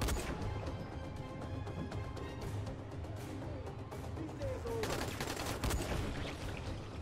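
Gunshots and impacts from the zombie game Dying Light: The Following, steady mid-level combat noise with crashes and thwacks layered over a constant background bed of game sound.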